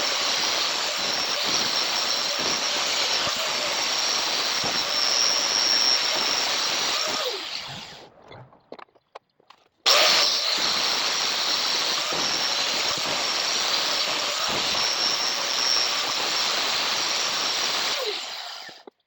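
Metal lathe turning down a steel frame part for a Tote Gote Model 770: a steady hissing cutting noise runs, drops out briefly around the middle, then resumes just as evenly until it fades at the end.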